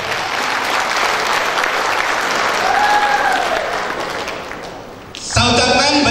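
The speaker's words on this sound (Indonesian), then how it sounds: "Berikan aplaus yang meriah untuk beliau Bapak Taufik Nur Hidayat." A company recognition-day audience claps for an honored guest, a sustained crowd applause holding steady for about five seconds before music or other sound abruptly cuts in at the end.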